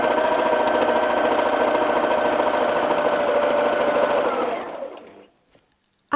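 A sewing machine runs continuously for free-motion quilting of roses, its fast mechanical whir steady and close before it slows and stops near the end.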